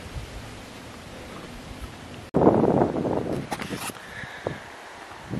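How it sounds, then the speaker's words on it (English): Wind gusts on a forested hilltop, a soft steady rush that suddenly swells into a louder blast buffeting the microphone partway through, then eases with faint rustling. "It's a little windy up here"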